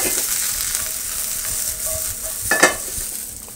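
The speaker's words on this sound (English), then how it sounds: "And now I'm going to add some of my minced garlic." Minced garlic sizzles in oil in a pan, a close, steady frying hiss with a brief louder crackling burst as it is stirred, no talking.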